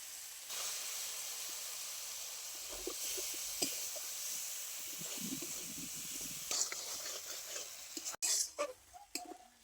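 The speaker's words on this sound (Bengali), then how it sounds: "মুসুরির ডালটা মশলার মধ্যে দিয়ে বেশ কিছুক্ষণ কষিয়ে নিতে হবে" Red lentils being stir-fried in a pan with turmeric, spices and a little water for a shrimp dish, a faint steady hiss of steam with soft stirring scrapes and clatter toward the end.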